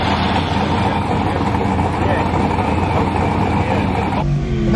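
A big V8 police car engine holds loud, close revs in the low range, a steady rumbling drone that cuts off abruptly near the end while someone speaks over it.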